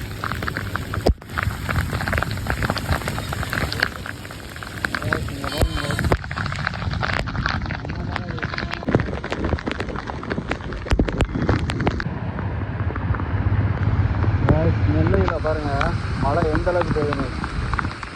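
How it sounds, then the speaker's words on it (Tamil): Heavy rain pours steadily in Tirunelveli, a dense, continuous hiss that fills the whole stretch, with a person talking over it throughout. "நெல்லையில் கனத்த மழை இடியுடன் கூடிய கனத்த மழை நெல்லையில்"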